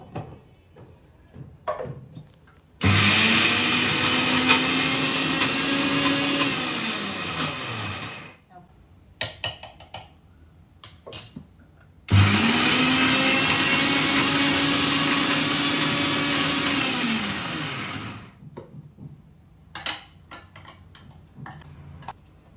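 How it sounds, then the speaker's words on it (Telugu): A kitchen mixer grinder runs in two loud bursts of several seconds each, grinding drained soaked ingredients to a fine paste, with a clicking pause between runs and small handling noises around them. "ఇప్పుడు దీన్ని బాగా మెత్తగా గ్రైండ్ చేసుకుందాం."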